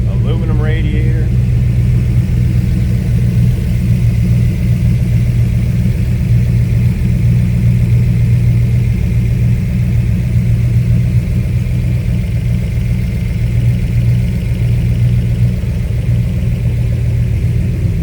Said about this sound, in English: 306 cubic inch blueprint engine, a 397 horse